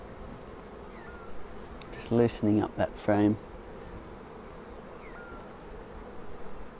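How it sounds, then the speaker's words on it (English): Honey bees in an open hive give a steady low hum throughout, while someone speaks briefly over it near the middle. "then we can look in the fascinating world of bees and see how they're going, what they're up to"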